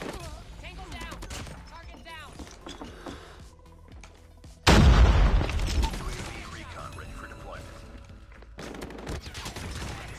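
Assault rifle fire in Call of Duty Mobile: a rough, bursting blast of gunshots hits at mid-clip and trails off into continuing game noise. The build-up before it is quieter, with a voice speaking over the gameplay.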